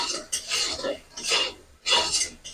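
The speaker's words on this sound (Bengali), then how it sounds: "লঙ্কা গুঁড়োটা আমি একটু মিশিয়ে নেবো।" A spoon stirs red chili powder into poppy seed paste in a bowl, giving three short, raspy scraping strokes at close range with brief pauses between them.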